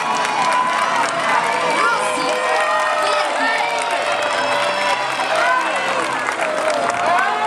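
A crowd at the Palio del Marenghin di Candia historical reenactment games cheers and shouts continuously, with many voices including children's rising and overlapping at close range.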